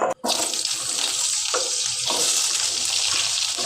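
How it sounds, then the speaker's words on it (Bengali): Potatoes fry in oil in a kadai for a midday offering meal, giving a steady, close hiss of bubbling oil that runs almost unbroken after a brief gap at the start. "এখন আমি আলুগুলো ভেজে নেব"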